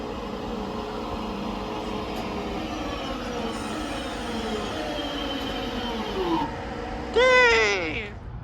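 Cross-Country passenger train from Manchester Piccadilly to Bristol Temple Meads arriving at platform 2 of Stoke-on-Trent station: a steady rumble that grows, then sharp wheel and brake squeals near the end.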